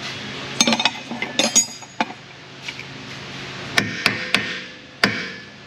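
A hammer strikes a car subframe to force it into alignment, giving a string of sharp metallic whacks and clinks, some in quick clusters and others spaced out, close by.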